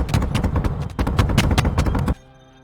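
Rapid automatic weapon fire in Space Engineers, a loud, steady stream of sharp shots for about two seconds that cuts off abruptly, leaving a faint humming tone.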